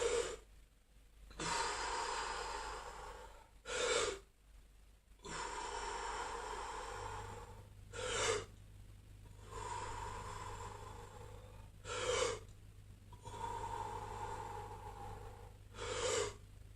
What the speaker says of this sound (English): Hand on heart, big deep breathing.